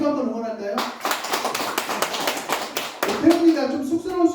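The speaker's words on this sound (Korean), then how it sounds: "박수 한번 응원할까요?" A small church congregation claps to cheer on one of its members, a burst of rapid, uneven hand claps that lasts a few seconds between stretches of someone speaking.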